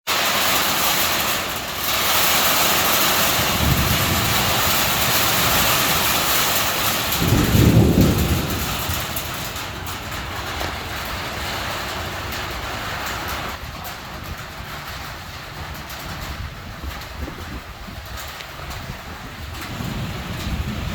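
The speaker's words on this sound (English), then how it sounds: "it's the stormy time of year again in the Philippines" Heavy thunderstorm rain in the Philippines during the wet season, a loud continuous downpour roar with deep rumbling thunder swelling in the first half and near eight seconds, then easing to steadier rain.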